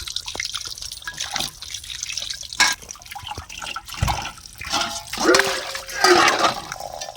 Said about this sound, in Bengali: আমি আরেকবার ধুয়ে নেব কল খুলে দিয়েছি